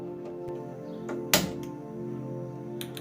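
A gas stove switched on in a home kitchen: one sharp click of the knob over a low steady hum, otherwise quiet.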